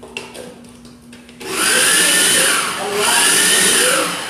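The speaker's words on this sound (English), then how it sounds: "You can't talk when the blender's on." A kitchen blender starts up after a brief quiet moment and runs loud and steady, its whirring motor pitch rising and dipping slightly as it churns. Faint talk comes before it starts.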